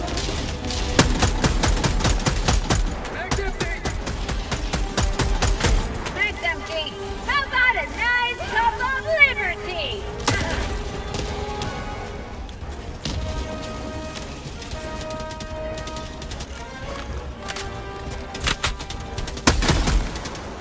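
Rapid autocannon bursts and other gunfire in a chaotic sci-fi shooter video game battle, heard in repeated volleys alongside explosions while players talk over the action.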